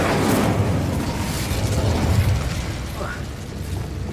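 The Incendio fire spell is cast in the video game Hogwarts Legacy, a rushing, crackling burst of flame that fills the moment and then trails off into low game ambience.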